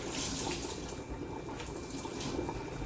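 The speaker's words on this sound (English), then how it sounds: "Wring all the water out." Water wrung out of a wet potato sack cloth in a kitchen, a steady close splashing stream of water pouring down, loud and continuous, with brief surges as the cloth is twisted.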